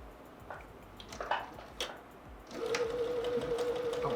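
A sewing machine stitches a seam on a Shoofly patchwork quilt block with red thread, starting after a few soft handling clicks and running steadily and close for the last couple of seconds.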